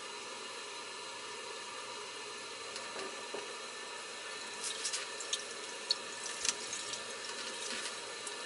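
Water drains down a kitchen sink with a troubled drain, a steady hissing rush at low level with occasional small gurgles and drips toward the end.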